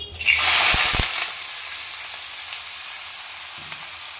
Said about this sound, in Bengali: আলু ভাজা বসাবো।